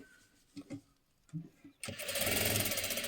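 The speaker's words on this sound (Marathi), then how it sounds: "हे पहा इथून शिलाई द्यायची." Sewing machine stitching a lehenga waist belt: a few soft handling taps and bumps, then the motor kicks in with a steady, close, rapid stitching whir for the final second.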